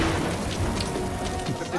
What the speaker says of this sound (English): Now there's a bad storm.